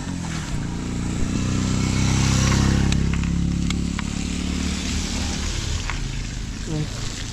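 A motorbike passes on a road, its engine swelling to a loud peak midway and fading after, with a person talking over it.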